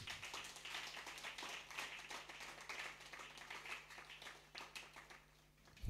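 Congregation at a Sunday church service clapping together, a dense run of many overlapping hand claps at moderate distance, steady for several seconds before trailing off.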